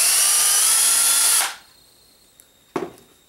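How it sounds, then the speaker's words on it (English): A power drill bores a vent hole into a model rocket body with a loud, steady high whine for about a second and a half, then stops, followed by a couple of small knocks. "And I'm just going to drill that out too."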